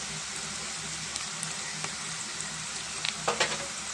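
Onions with ginger-garlic paste fry in a pan for a cucumber, dried fish and tomato curry, giving a constant close sizzle with a few soft stirring clicks and scrapes near the end.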